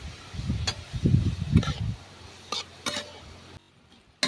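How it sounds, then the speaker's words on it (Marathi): Wild vegetable flowers sautéed in a pan make soft sizzling and stirring with several sharp clinks of a spoon against metal, then a near-silent pause before a last scrape. "आता फुलं आपल्याला चांगली परतून घ्यायची आहेत"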